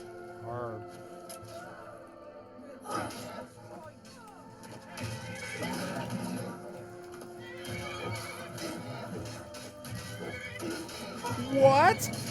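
A horse neighs and whinnies several times amid clip-clopping hooves and rustling, with a sharp loud whinny near the end.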